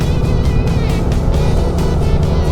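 Road traffic on the Nueva Vizcaya Ifugao Road under construction in a one-way section, a close, steady engine drone from passing vehicles, continuous and fairly loud with no voices.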